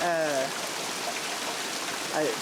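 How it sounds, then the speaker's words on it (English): Heavy rain roars in a dense, steady hiss, with a voice speaking briefly at the start and end. "it's raining hard"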